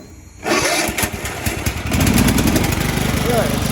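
An MTD Yard Machines lawn mower engine, just repaired and started on choke, catches and runs loudly and steadily close by after a short quiet start.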